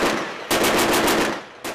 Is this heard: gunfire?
yes